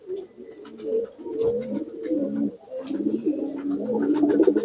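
Domestic racing pigeons coo steadily in a loft, several birds overlapping in a continuous low, throaty murmur that rises and falls, with faint chirps on top and no talking.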